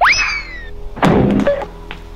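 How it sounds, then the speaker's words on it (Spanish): A stone thrown in a Pennywise killer-clown chase game lands with a dull thunk midway, after a rising synthetic tone at the start, followed by a few lighter knocks. "Voy a lanzar una piedra."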